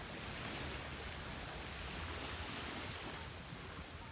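Waves wash onto the Indian Ocean shore near Phillip Island as a faint, distant, steady hiss of surf blended with light wind, with no breaks or distinct crashes.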